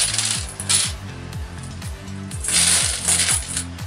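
Metal coins from scrap-metal digging being handled and dropped, a steady run of close, bright metallic clinks and jingles in an uneven rhythm, with no one talking.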